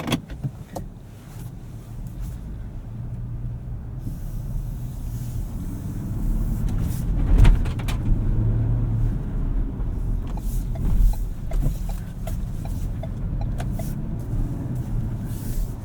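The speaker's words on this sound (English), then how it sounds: "I think we should go drive it and see how it feels on the road" A 2024 Ford Ranger XLT 4x4 pickup drives on the road, heard from inside as a steady low engine and road rumble with a few brief clicks and thumps.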